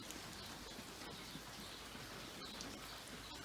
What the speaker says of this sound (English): Nice deep rain. You can almost hear everything soaking it up.